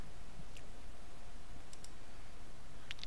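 A computer mouse clicks a few times, short faint ticks spaced apart while setting up Windows Admin Center, over a steady low background hiss with no talking.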